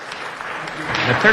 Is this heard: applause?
yes